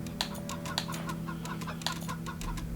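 Chickens clucking on a farm in the video game Wasteland 3: steady soft clucks and short calls repeating over a dense, busy ambient game background, with no speech.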